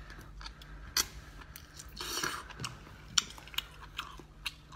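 Crisp crunching and biting while someone eats raw seafood such as octopus, shrimp and crab, with sharp intermittent crackles and a denser crunchy stretch, close to the mic and without speech.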